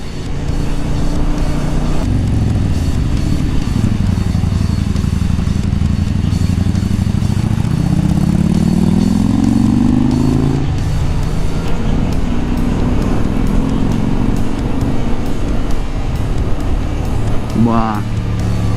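A motorcycle engine drones steadily while riding, rising and falling in pitch as it shifts, with a loud wind rush throughout.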